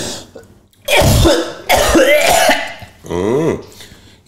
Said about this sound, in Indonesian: Itu batuknya batuk kering itu, nak.